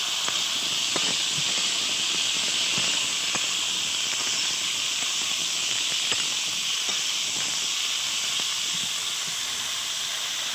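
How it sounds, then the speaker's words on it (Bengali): Potatoes frying in hot oil rendered from fish, with a steady broadband sizzle and hiss that holds evenly throughout and small crackling pops scattered across it, close up with no talking. "সেই তেলেতে তেলটু ছেড়ে দিয়েছি, দিয়ে আলুটা ভেজে নিচ্ছি।"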